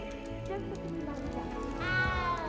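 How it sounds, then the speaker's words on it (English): A small cat in the video game Hogwarts Legacy gives several close, plaintive meows, the last one louder and longer, over soft background game sound and speech. "You don't need to be frightened, little cat."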